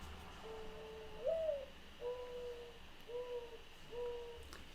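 A single bird sings a very low-pitched, hooting spring song: four soft, hollow notes in slow succession, the first slightly rising, heard faintly from a distance against quiet background hiss.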